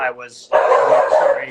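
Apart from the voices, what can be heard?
dog barking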